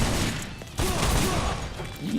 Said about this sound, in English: The ranged ability, that is, the right-click gunshot.